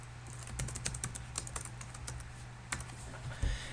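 Steady computer keyboard typing, a run of quick close key clicks with a few pauses, entering a name for a new virtual machine.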